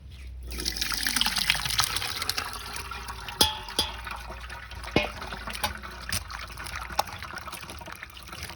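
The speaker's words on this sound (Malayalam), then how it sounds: "എന്നിട്ട് ഞാനിത് ഇനി ഒരു അരിപ്പയിലൊഴിച്ച് ഈ വെള്ളം പോക്കുക" Water draining through a sieve from squeezed cocoa pulp during homemade cocoa powder preparation, a steady trickling splash with a few sharp drips and clinks of the strainer, fairly close, with no talking.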